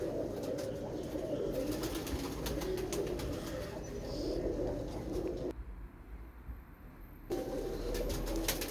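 A pigeon coos in low throaty calls under steady background noise, with rapid soft wingbeats and rustling close by, then a short quieter gap.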